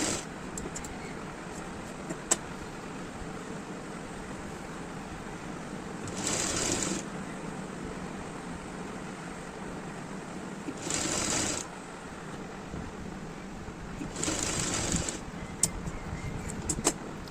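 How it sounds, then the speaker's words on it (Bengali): A sewing machine stitches a frill onto a nighty in three short bursts of fast, even whirring, separated by quiet stretches of fabric handling. "ধরে ধরে কুচিটা এখানে বসিয়ে সেলাই করে নেব।"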